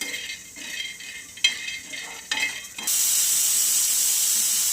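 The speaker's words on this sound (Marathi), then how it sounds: "शेंगदाणे पण असंच मस्त बारीक गॅसवर भाजून घेणार आहे" Peanuts dry-roasting in a pan on a low gas flame give soft scraping and stirring sounds with brief rattles, then a steady, close hiss takes over.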